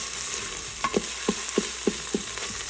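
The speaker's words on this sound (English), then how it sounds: "I just tossed in the garlic for this and the ginger. And we're going to saute that for another minute." Garlic and ginger saute in an Instant Pot: a soft, steady sizzle punctuated by a regular series of about six spoon taps or scrapes against the pot.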